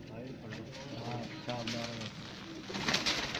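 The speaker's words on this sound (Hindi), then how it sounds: "गोल्डन कबूतर इनका" A golden pigeon at a pigeon loft coos softly in low rolling phrases, faint and close, while people talk over it.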